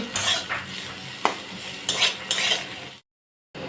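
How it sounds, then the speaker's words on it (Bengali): Ivy gourd (kundri) frying in a pan, with a utensil stirring and scraping it in several sharp strokes over a constant sizzle. The sound cuts to silence for a moment before it resumes. "আর এখানে তো আমি কিন্দুরি ভাজছি, ভাজা চলছে।"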